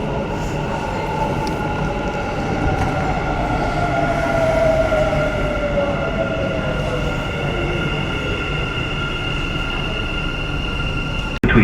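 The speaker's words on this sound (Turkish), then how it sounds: "Dubai Metro, Dubai Metro Red and Green Lines." A Dubai Metro train running steadily, with a continuous rumble and a sustained high tonal whine rising and falling as it moves, close and fairly loud.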